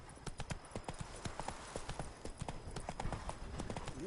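A horse gallops in The Witcher 3, its hooves beating in a quick, even clip-clop rhythm close by, with no voices.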